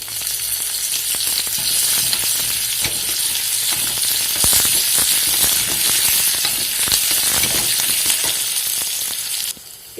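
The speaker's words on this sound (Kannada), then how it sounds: "ಈಗ ಅರ್ಧ ಸ್ಪೂನ್ ಜೀರಿಗೆ, ಅರ್ಧ ಸ್ಪೂನ್ ಸಾಸಿವೆ, 8-10 ಬೆಳ್ಳುಳ್ಳಿ ಹಾಕ್ತಾ ಇದ್ದೀನಿ ಜಜ್ಜಿರೋದು" Cumin, mustard seeds, crushed garlic and curry leaves crackle and sizzle in hot oil as a tempering, a loud, dense, steady fry with sharp pops throughout, dropping off abruptly at the very end.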